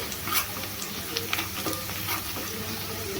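Onion pieces frying in oil in a pan give a continuous close crackling sizzle, with a few brief stirring scrapes and ticks, no voices.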